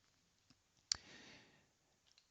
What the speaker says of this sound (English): clicking on the calibrate button here takes me to the calibration interface